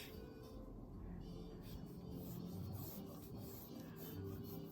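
Soft, continuous close scratching of a pencil lightly sketching on paper, a quiet even rasp with small shifts in stroke and no talking.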